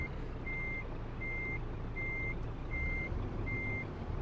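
A reversing truck in Euro Truck Simulator 2 sounds five evenly spaced beeps, clear and regular, over a steady low engine rumble.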